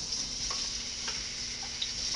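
Onions frying in vegetable shortening heated to medium for a Hungarian pea dish, a soft, even sizzle with faint ticks, quiet and continuous without speech.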